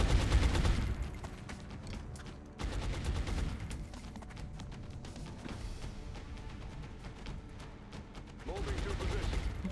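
Sustained volleys of suppression gunfire in the XCOM Long War video game, dense and loud bursts rolling almost continuously, with a brief dip near the middle before heavy firing resumes.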